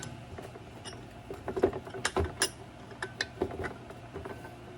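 The handle of a bumper-mounted vise is cranked, producing quiet irregular metallic clicks and ratchety ticks of threads and mechanism, close and faint over a low background hum.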